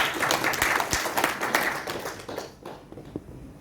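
An audience at an Indonesian trading presentation applauds with scattered, moderately loud clapping that thins out and fades after a few seconds.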